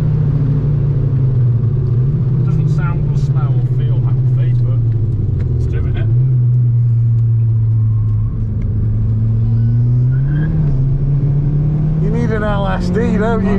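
A race car engine runs steadily through a Donington Park trackday session, a constant low drone rising and falling slightly with throttle while people talk over it throughout.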